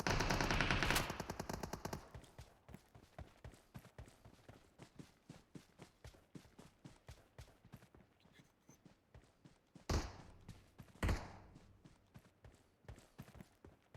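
Gunfire in the video game PUBG Mobile: a dense burst of rapid automatic fire, then a long run of evenly spaced sharp shots, with two louder bursts near the end, moderately close with no talking.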